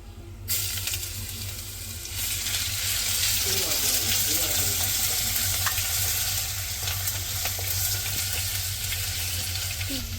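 Curry leaves, crushed ginger and garlic frying in a pan for a Kerala-style fish curry, with a loud continuous sizzle and occasional stirring.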